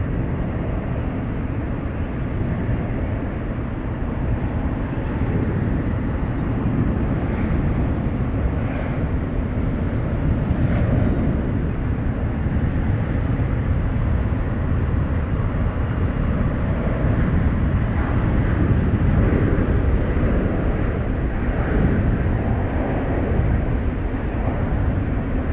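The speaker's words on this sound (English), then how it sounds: "There's a Southwest arriving right now on the 28th" A Southwest airliner arriving at San Francisco airport makes a steady, broad jet roar that holds at a fairly even loudness, with no voices over it.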